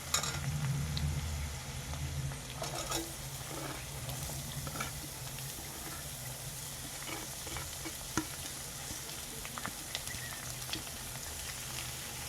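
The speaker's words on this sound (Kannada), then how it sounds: "ಎಲ್ಲನೂ ಲೋ ಫ್ಲೇಮಲ್ಲೇ ಇಟ್ಕೊಂಡು ಫ್ರೈ ಮಾಡ್ಕೋಬೇಕು" Finely chopped onions fry on a low flame for cabbage palya, a soft continuous sizzle with occasional stirring scrapes, fairly quiet and steady throughout with no talking.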